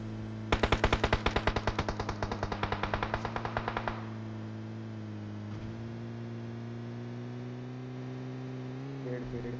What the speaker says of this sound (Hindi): आखिरकार जाके वो बंदा भी गोलियां चलाता है